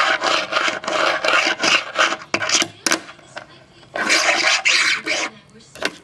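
New Winkler fingerboard wheels rolling, a close, gritty rasping roll in repeated strokes with short gaps and a few sharp clicks between passes, heard alone without talk.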